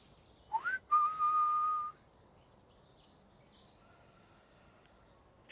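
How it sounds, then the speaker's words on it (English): A single whistled note rises and then holds steady for about a second in a quiet graveyard. Faint high chirps follow, then near-silence. "Would the spirit be able to come back and whistle again?"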